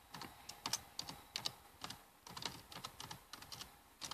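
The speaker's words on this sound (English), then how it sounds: "retype password in" Rapid, irregular keystrokes as a password is typed on a computer keyboard, close and fairly quiet, with short pauses between bursts of clicks.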